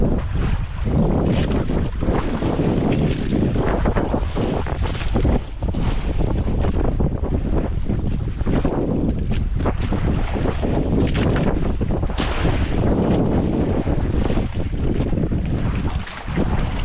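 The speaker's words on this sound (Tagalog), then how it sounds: "Makas yung hangin mga idol." Strong wind roars and buffets the microphone continuously, a loud rushing blast with gusty surges throughout and no voices.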